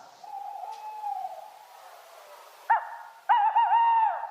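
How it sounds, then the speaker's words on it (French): An owl hoots in a sound-guessing game, heard alone: a soft drawn-out hoot, then two louder, wavering hoots near the end, with no talking. "Non, une chouette, une chouette."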